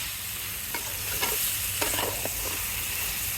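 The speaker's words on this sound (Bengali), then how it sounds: "বেগুনের সাথে মিশিয়ে দেবো এখন উলট পালট করে" Bajori tengra fish and eggplant are stirred together while frying in a pan, with a constant hiss of sizzling oil and several scraping, clattering stirs spread across the moment.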